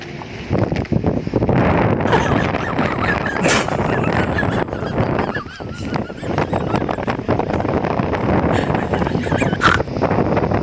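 Strong wind roars and buffets the microphone continuously, with gusty rumbling and flapping throughout and no clear voices.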